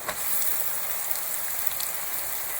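Shallots frying in hot oil in a pan for a Kerala-style prawn roast, a steady close crackling hiss that runs evenly throughout with no talking.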